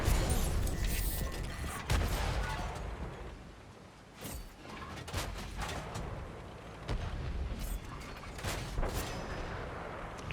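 Tank cannons fire in World of Tanks Modern Armor, heavy booming shots and sharp metallic impacts scattered through a rumbling battle soundscape, some near and punchy, others duller and further off.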